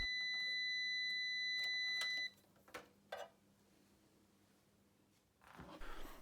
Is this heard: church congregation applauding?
no